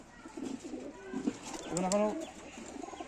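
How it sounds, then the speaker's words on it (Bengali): Giribaz pigeons, a pair kept as flying birds, coo in soft throaty rolling calls at close range, rising into a fuller burst midway before settling. "আমার এই জাতেই পায়রা, গিরিবাজ পায়রা।"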